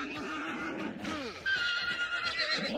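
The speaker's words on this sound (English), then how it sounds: "it's just the horsey" A horse in the game Hunt: Showdown lets out a close, loud whinny with a wavering, falling neigh, amid a faint ambient background.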